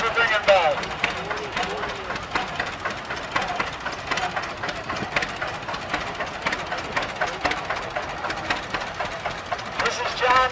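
A John Deere 50 tractor idles and runs at a spring tractor pull, with a steady mid-pitched engine rumble that rises slightly at times under an announcer talking over a loudspeaker.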